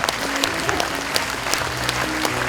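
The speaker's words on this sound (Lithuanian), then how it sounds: "Nusilenkite dar kartą, jums ploja." An audience claps warmly for young performers at a music school's anniversary concert, a loud, steady wash of applause with a few sharper individual claps and faint voices underneath.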